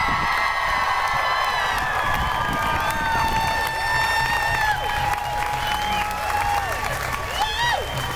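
Large outdoor crowd at a Women's March rally in St Pete cheering, whooping and applauding steadily, a dense sustained roar with scattered shouts and whistles rising above it, continuing evenly throughout.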